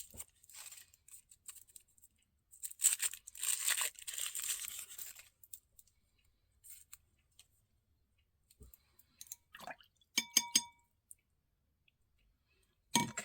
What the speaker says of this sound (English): And our final one to unwrap is Solstice Fern.